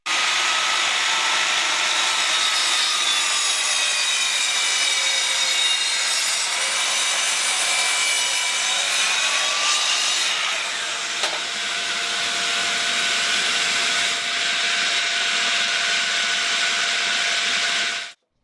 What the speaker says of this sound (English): all I had to do was put the miter saw back to 0 degrees to cut the second vertical trim piece